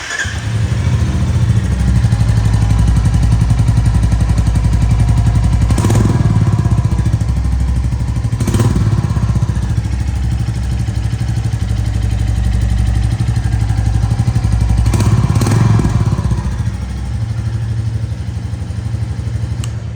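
A Royal Enfield Meteor 350 motorcycle runs close and loud, a steady thumping single-cylinder idle with a few brief revs or clunks.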